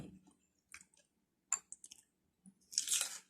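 Close, wet chewing and a few crunchy bites while eating liver, Thai/Isan style, in short irregular bursts separated by quiet pauses, ending in a louder smacking stretch; no talk.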